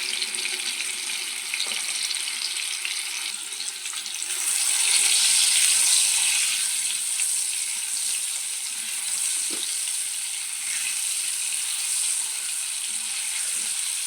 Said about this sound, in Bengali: কড়াই গরম হওয়ার পর তেল দিয়ে আলুগুলোকে ভেজে নিতে হবে।